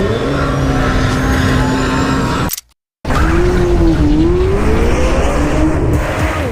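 A Lamborghini Temerario engine screams at high revs up to 10,000 RPM, its pitch climbing and shifting with tire squeal, briefly cutting to silence before roaring back loud and close.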